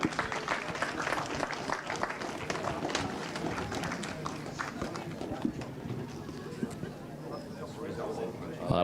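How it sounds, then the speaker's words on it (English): Crowd applause at an outdoor karting podium ceremony, steady clapping throughout under a commentator's voice, moderately loud and continuous. "one final round of applause for OKN Junior."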